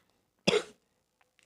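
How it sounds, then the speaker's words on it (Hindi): A single short cough close to the microphone during a class lecture, followed by quiet with a few faint small sounds. "खांसी परेशान कर रहा है"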